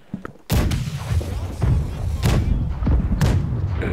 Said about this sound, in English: I get ready, fire starboard.